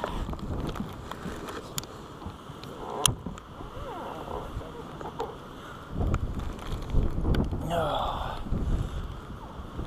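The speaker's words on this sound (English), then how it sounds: "Wind blowing like hell." Strong wind gusts across a lake during a bass fishing tournament, rough and uneven, with louder buffeting bursts toward the end and faint sounds of a boat.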